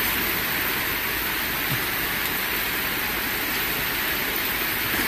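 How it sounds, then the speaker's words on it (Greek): Heavy rain pours down during a storm in Athens, a dense, steady, broadband roar of falling water that stays loud and unbroken throughout, with no voices. "Πέφτει πολύ νερό αυτή τη στιγμή."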